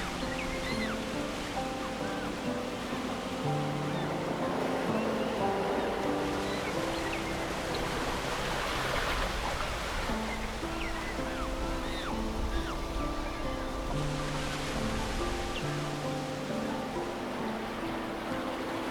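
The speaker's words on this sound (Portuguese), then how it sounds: "O som das ondas" Ocean waves at Boulders Beach in South Africa wash in a continuous steady roar of surf, with swells building and breaking at moderate distance, no talk over them.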